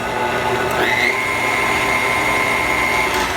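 A hand or stand electric mixer whirs steadily on medium speed through pie crust dry ingredients of flour and fine salt, a constant loud motor drone that shifts pitch once near the start and keeps running to the end.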